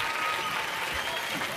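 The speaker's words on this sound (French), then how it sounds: "je vous demande de les applaudir." Studio audience applauding on a French televised talent show, a dense, steady wash of clapping filling the space at full level with a murmur of voices mixed in.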